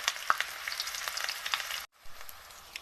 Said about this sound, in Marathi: तेल गरम झाले आणि कांदा टाकून घेतला बघा मस्तपैकी